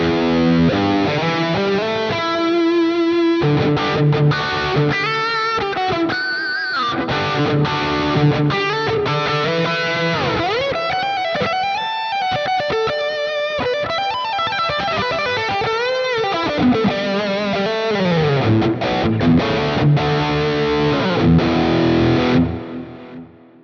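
Lead-amp electric guitar preset on a Quad Cortex, modeled on a plugin with compressor, drive pedal and tape-saturated delay, playing a continuous distorted melodic line of sustained notes and quick runs, loud and alone.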